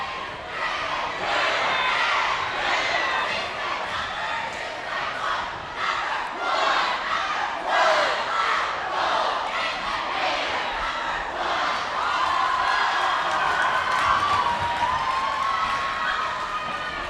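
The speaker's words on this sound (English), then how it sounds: "Gateway Cheer Squad will take to the floor" Gateway cheer squad performing in a high-school basketball gym while the crowd yells and cheers loudly and continuously, with chanting voices and shouts filling the room.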